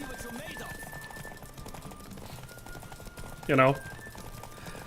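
A horse trotting in a race in the video game The Witcher 3, with a faint clip-clop rhythm under continuous talking and a short whinny near the end.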